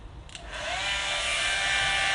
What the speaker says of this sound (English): I'm gonna put my blow dryer on there, and then you'll really see what I'm talking about.